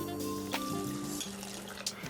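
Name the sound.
water poured into Keto Mexican chicken chili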